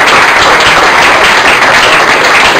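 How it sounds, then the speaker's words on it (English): A golf club farewell gathering breaks into applause, a dense, steady wash of many hands clapping together, loud and close throughout with no pauses. "It's right that we applaud"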